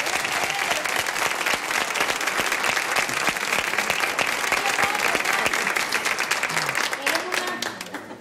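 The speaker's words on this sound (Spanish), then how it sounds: "¿Y David da un aplauso al caballero o qué?" A studio audience applauds steadily for a gentleman on a Spanish afternoon TV show, a dense, loud wash of clapping that holds throughout and eases slightly at the end.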